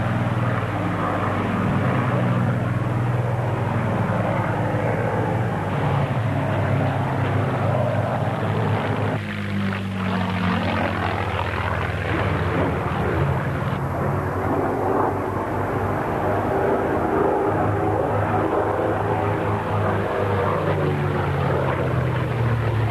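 Fighter aircraft with a Packard-built Merlin engine flying past at an air display at RAE Bedford, a continuous loud propeller-engine roar that swells and shifts over more than twenty seconds, with no clear talk.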